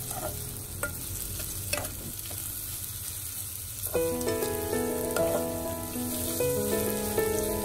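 Onions fry in a pan for tilapia biryani, a steady sizzle with stirring scrapes, joined partway through by a brighter, busier crackle of frying that continues to the end.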